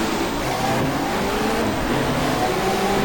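Touring cars in the GTR2 racing game, a 1994 Asia-Pacific championship race start, engines held at high revs and then pulling away together in a dense, loud, continuous roar with no voices.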